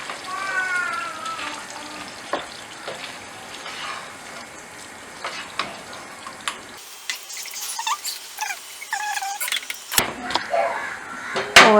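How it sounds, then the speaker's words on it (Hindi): Pumpkin and lentil dal stirred in a cooking pot, with a low frying hiss and scattered scraping and clinking of the spoon, getting louder and busier toward the end. "अब हम कद्दू और दाल को अच्छे से मिक्स कर देंगे।"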